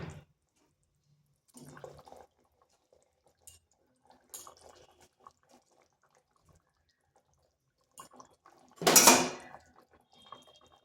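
Pieces of rohu fish go into a simmering pot of curry with eggplant and potato: scattered soft clinks, then one loud, brief splashing burst near the end, with no talking.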